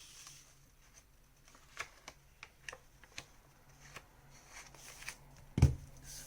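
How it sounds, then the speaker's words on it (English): Paper envelopes being sealed for a handmade mini album, a faint series of soft taps and paper presses spaced irregularly, ending with one sharper close thump. "Seal all your envelopes."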